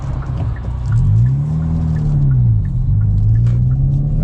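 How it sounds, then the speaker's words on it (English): A 2022 Hyundai i20N hot hatchback engine blips and swells in pitch during automatic rev-matched downshifts, two rising-and-falling surges heard close and loud with no talking. "That rev matching feature is just great."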